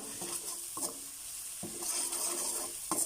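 Shallots frying in a pan give a constant close hiss, broken by a few rhythmic scraping stirs of a utensil against the pan, with no voices.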